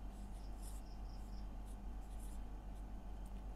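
A pen scratches out a finance formula by hand in quiet, faint short strokes in small bursts against a low steady hum.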